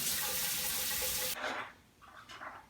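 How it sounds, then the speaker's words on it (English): Shower water runs in a steady, full hiss for over a second before cutting off, followed by a few softer splashes and trickles from rinsing under the spray. "So just rinsing them off every day in the shower is sufficient."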